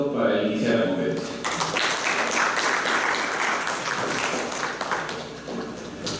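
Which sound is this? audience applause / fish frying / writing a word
audience applause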